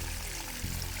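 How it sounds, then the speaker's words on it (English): Sampled running streams and waterfalls from the Ice Cave Ableton instrument give a steady, broadband watery wash with no distinct events, moderately quiet. "it's a sound of like running streams and waterfalls"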